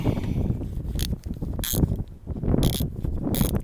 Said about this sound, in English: I used a ratchet handle and a 14